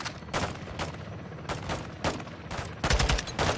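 Bursts of SCAR rifle fire from a Modern Warfare II match, loud and close, coming in several short rapid volleys separated by brief pauses, with a denser, harder string of shots at the end.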